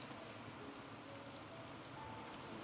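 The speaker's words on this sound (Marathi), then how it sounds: "बघा पाऊस मित्रांनो कसा वाढला" Rain falls steadily in a village setting, a faint, even hiss of drops without pause and with no voices.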